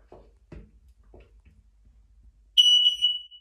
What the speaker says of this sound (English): Got another smoke alarm, which we'll just check.